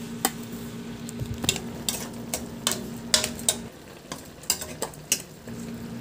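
Fried bisugo fish slipping into a pot of simmering broth, giving a soft sizzle and bubbling with scattered clinks of utensils against the pan, close and fairly quiet, no voices.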